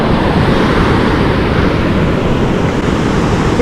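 Steady broadband rush of ocean surf breaking close by, constant and loud for the whole stretch, with wind noise buffeting the microphone and no voices.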